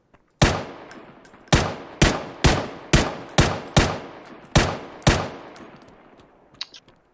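About ten evenly spaced, booming single rifle shots ring out in PUBG while firing through a 4x scope, each loud crack trailing into a short echo, a faint click at the end, no voices.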